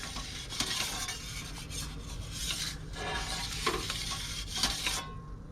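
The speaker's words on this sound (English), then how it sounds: "the cheese is starting to bubble and melt" Cheese on Bagel Bites bubbles and melts inside an Ooni Koda 16 pizza oven, giving a soft, continuous crackling sizzle with occasional scraping and faint clinks, steady and fairly quiet.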